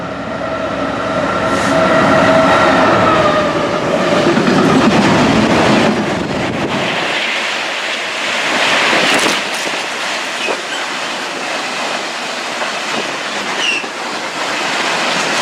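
A passenger train departing Rugeley Trent Valley station, the 1720 service to Birmingham International, heard loud and close from aboard: rumbling wheels and rising motor whine, then a rhythmic clickety-clack of rails as it gathers speed.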